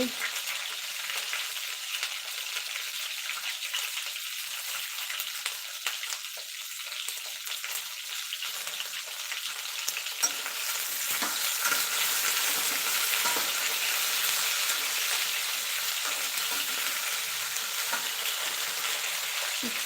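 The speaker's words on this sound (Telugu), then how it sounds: "నేను ఆయిల్ తప్ప ఏం వేయలేదు ఉప్పులో కడిగిన వంకాయలు వేశాను" Salt-washed eggplant pieces fry in plain oil with a steady, close hiss and crackle that grows a little louder partway through and runs on without a break.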